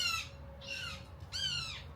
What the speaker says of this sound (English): It's a hawk.